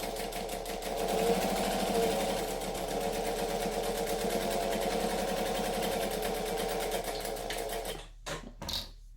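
A sewing machine stitches a seam in one long, steady, buzzing run of rapid needle strokes, close and loud, then stops with a few brief clicks and knocks.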